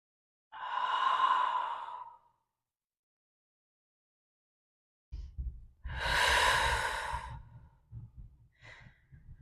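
Slow, deep breathing during a hatha yoga session in a standing forward fold: one long, soft airy exhale, a pause of silence, then a louder, fuller breath with faint rustling and a brief trailing sigh, close by.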